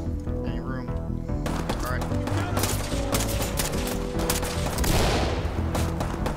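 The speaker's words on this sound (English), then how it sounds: "I saw gunshots coming at me from like this body" Gunfire in a tactical shooter video game: bursts of shots and a dense fusillade crackle over game ambience, with a player talking throughout.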